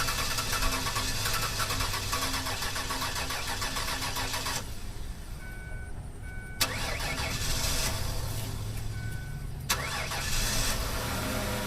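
Mercury Sable car engine being started, the starter cranking and the engine churning roughly in long loud stretches, cutting out twice before cranking again, close up and with no talking.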